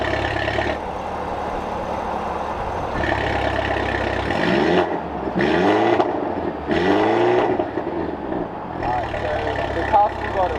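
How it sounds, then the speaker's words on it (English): A Mercedes C300 exhaust with its valves open revs in a car park, several rising and falling engine surges with a droning exhaust note in between. "I'm just going to go up and down in the car park to give you a little sound clip of the exhaust system"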